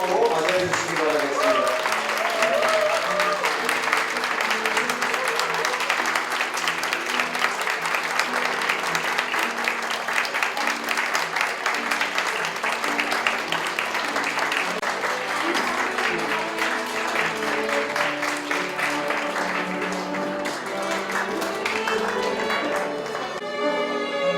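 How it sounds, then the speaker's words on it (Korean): Wedding guests applaud warmly and steadily as the bride enters a Korean wedding ceremony, a dense crowd clapping that fills the hall for over twenty seconds while background music plays underneath. "자, 그럼 힘찬 박수."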